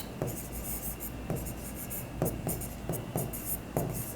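Pen strokes scratch across paper while a Bengali accounting lesson on journal entries is worked out, a steady soft scratching marked by several sharper taps and short strokes.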